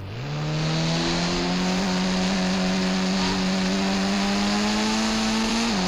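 A Lamborghini's engine in the video game GTA V runs at a steady, sustained drone that climbs slightly in pitch toward the end, loud and close, with no talking.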